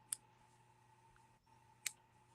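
Two sharp metallic clicks of scissors being handled, one near the start and one later, close and quiet over a low steady hum, with no talking.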